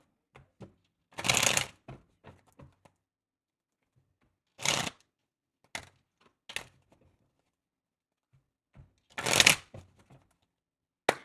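Tarot cards are shuffled in several short bursts of crisp riffling and flicking, separated by quiet gaps and light taps, close and clear with no talking.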